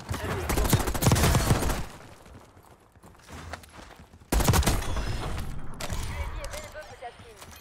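KSV submachine gun fire in Black Ops 6 Warzone, two loud sustained automatic bursts separated by a quieter stretch of weapon handling clicks and someone talking.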